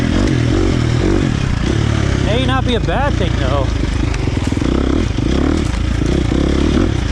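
KTM 350 XC-F dirt bike running on a Vortex ECU tune, its loud, steady engine drone continuous throughout with brief rising whine-like tones midway, while a rider talks over it.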